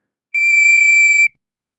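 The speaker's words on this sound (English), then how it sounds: "the whistle in his hand. He blew it again, longer this time." A single loud, steady whistle blast, shrill and close, lasting about a second against silence.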